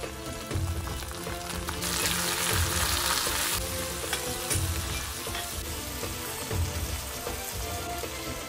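Washed greens go into a pan of sautéed garlic and onion and fry with a steady sizzle and crackle, while stirring scrapes and rustles at intervals. There is no talking.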